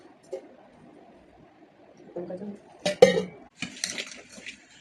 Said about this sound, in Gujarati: થોડું મીઠું, થોડી હિંગ. હવે એને મિક્સ કરી દઈએ.